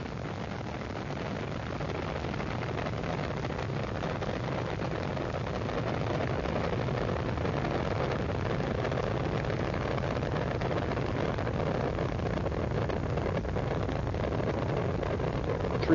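Space Shuttle Discovery's engines and boosters during the STS-96 launch ascent give a steady, dense, low rumbling roar that holds throughout without letting up, broad and continuous like distant thunder.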